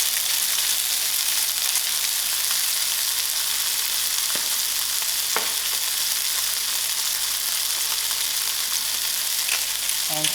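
Broad beans seasoned with salt and pepper fry in a pan, giving a steady, even sizzling hiss with a couple of faint clicks and no voices.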